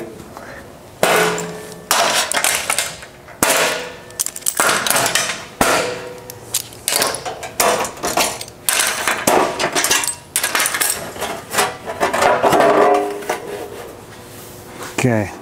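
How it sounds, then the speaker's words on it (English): Clamps coming off a metal fender panel in a welding shop, followed by the panel sliding out: loud, close metallic clanks, knocks and scraping in irregular bursts that run almost continuously. "I'm going to take off all my clamps and I'm going to slide this out"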